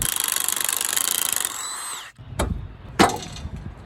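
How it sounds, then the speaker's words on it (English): A power tool takes the upper sway bar link bolt off a rusty 1998 Jeep Wrangler TJ, first as a loud, fast rattling buzz that whines down after about two seconds, then two sharp metallic knocks. "Take the upper sway bar link bolt off."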